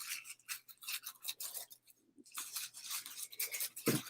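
Scissors snip thin strips of plastic bag up close, a quiet, rapid series of crisp slicing swishes with a short pause midway and a soft knock at the end.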